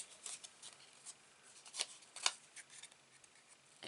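Paper trimmed for a handmade mini album, faint close snips and scrapes of a blade or scissors, a few sharper cuts in a quiet room.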